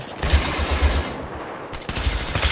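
Rapid bursts of automatic gunfire from Battlefield 3 co-op play, loud and close, with heavy machine-gun rattle that pauses briefly before resuming.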